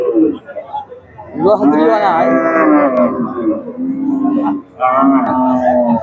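A cow at a busy cattle market for Qurbani livestock, lowing in a loud close drawn-out moo followed by another shorter call, with people talking around it.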